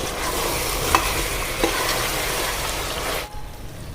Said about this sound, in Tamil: மறுபடியும் நல்லா அடி கொடுத்து கிளறிக்கலாம்.